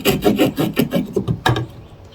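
A knife scrapes and rasps into a wooden bow drill fireboard to carve a wedge-shaped notch, a quick series of close, rough strokes in an uneven rhythm. No one talks.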